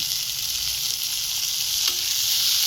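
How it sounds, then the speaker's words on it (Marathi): Onion and tomato masala frying in a pan for a dried fish and potato curry, a continuous close hissing sizzle with a faint stirring knock near the end. "हे चांगलं फ्राय झाला पाहिजे आपला मसाला"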